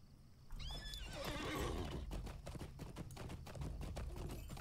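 A horse in the Lord of the Rings Online video game gives a loud, close whinny, followed by a run of steady hoof clops, with no talk over it.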